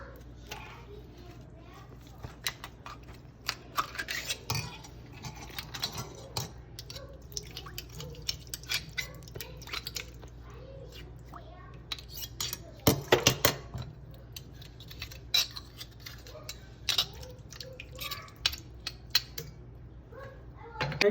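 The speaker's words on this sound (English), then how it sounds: "So now I'm gonna start shucking them." Clams are shucked by hand in a home kitchen, with scattered faint clicks, scrapes of shell and metal and small drips of liquid spread through the clip while a person talks intermittently.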